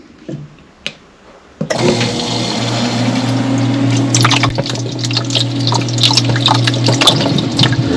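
An ice machine starts up after a short silence and a couple of clicks, then water runs and gurgles through it steadily with a motor hum underneath, growing busier with splashy bubbling toward the end.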